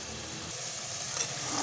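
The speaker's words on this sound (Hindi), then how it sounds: "ये देखिए हम आलू को अच्छी तरह से भून लेंगे" Potato pieces frying with tomato masala over a normal flame for an aloo matar dish, giving a steady, close hiss of sizzling oil with faint stirring throughout, no voices.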